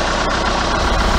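A 2016/17 Hyundai Grand Starex Limousine 4WD diesel engine idles close by with a steady, low, rough clatter and no other sounds.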